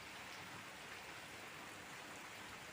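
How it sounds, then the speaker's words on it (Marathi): Steady rain falls over a village in the morning, a soft, even hiss of drops on surfaces that stays constant throughout, faint and alone with no voices or other sounds. "सकाळचा टाईम आहे आणि मस्त पाऊस पडतोय."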